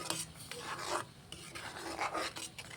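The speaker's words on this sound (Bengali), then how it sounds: "এবারে আমি এই শিরাটাকে অনাবরক্ত নাড়তে থাকবো না হলে তলায় লেগে যেতে পারে" A utensil scrapes and rasps around a pan while mango syrup with chili flakes for aamsotto is stirred, a soft, close, repeated rubbing in an uneven rhythm.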